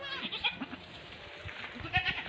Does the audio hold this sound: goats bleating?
yes